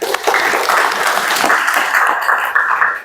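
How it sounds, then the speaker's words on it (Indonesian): Applause from a classroom audience for a student presenter after a lesson on Islam's spread in Indonesia, a steady dense wash of clapping lasting about three seconds before tapering off. "Berikan tepuk tangan untuk Mas Fatur."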